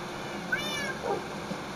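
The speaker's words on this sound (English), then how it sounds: "yeah, this is my cat." A cat in the Minecraft video game meows twice, short and fairly clear, over a steady low background hum with no voices.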